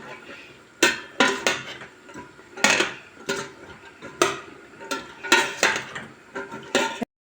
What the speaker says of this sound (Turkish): Nohutuyla bir güzel karıştıralım.